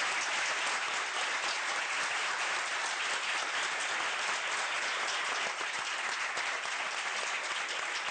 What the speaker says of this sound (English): How about a good round of applause for our three speakers?